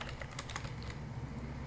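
Quiet, close typing on a computer keyboard: a brief flurry of light key taps over a soft background hum.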